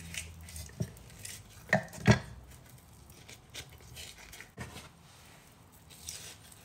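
A spoon scoops ripe avocado into a mini blender, giving a few light clinks and taps clustered near the two-second mark, followed by quieter soft scraping.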